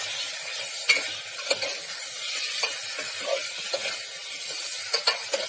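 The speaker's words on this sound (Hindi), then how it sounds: "मिक्स कर देंगे इसको और मटन को थोड़ा सा भुनेंगे।" Mutton being stirred and fried in a pan, a steady sizzle running throughout with scattered scrapes and clinks of the spoon against the pan at irregular intervals, close and moderately quiet.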